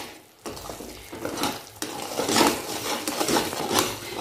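A spoon works a coconut and khoa burfi mixture in sugar syrup in a pan, with repeated scraping, stirring strokes and light sizzling, close and moderately loud, with no talking.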